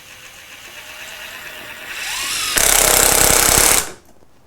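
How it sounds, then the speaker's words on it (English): A Festool Ti-15 hybrid impact driver whirs up while driving a screw, then bursts into a loud, rapid hammering rattle for about a second before stopping abruptly. "then it's going to start engaging the hammer in order to do the impact to help drive this driver in"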